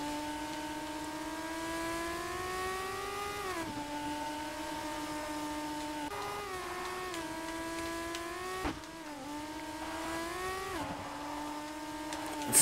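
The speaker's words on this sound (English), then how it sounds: "So weird how this car sounds." A car engine in the racing game Horizon Chase Turbo drones steadily, its pitch climbing and then dropping sharply at each gear shift, repeating over several cycles with no talk over it.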